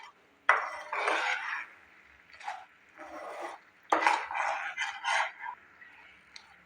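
Dry fruits for chana chikki are stirred in a metal pan, a spoon scraping and rattling in close, rough bursts separated by brief pauses, with no talking.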